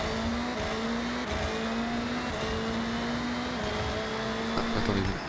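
A drift-tuned car engine in Forza Horizon drones loudly and continuously, its pitch rising through repeated gear shifts with a faint tire squeal toward the end.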